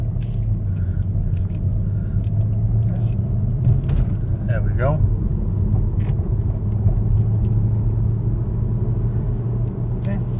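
Heard from inside a 2007 Mercedes-Benz GL450 on an open road, a steady engine and road rumble holds throughout, with a brief spoken remark partway through.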